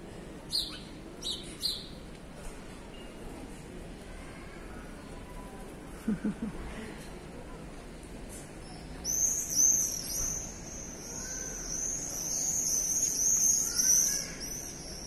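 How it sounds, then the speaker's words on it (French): Sparrows chirp in short bursts outdoors by a lake, with a busier run of high twittering toward the end, fairly distant over quiet background. "C'est moineau."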